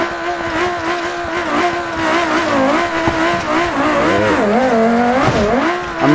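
A race car engine in BeamNG Drive roars loud and steady, revving up and down in wavering pitch sweeps throughout with no talk.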